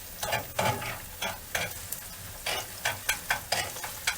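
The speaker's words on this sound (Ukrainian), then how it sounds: "Беремо ложку і мішаємо нашу цибульку." A spoon scrapes and stirs through onions sizzling in a pan, with repeated clattering strokes over a steady frying hiss, close and moderately loud.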